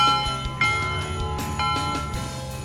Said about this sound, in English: the best sound around here is when the lunch bell rings